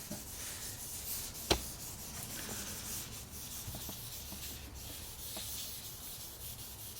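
A car headlight is wet sanded by hand, without a sanding block: a steady, faint, scratchy rubbing continues throughout, with one sharp click early on.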